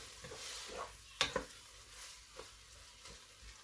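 Beansprouts stir-frying with oyster sauce in a pan, giving a soft, low sizzle with a few light scraping and tapping stirs, faint and steady throughout.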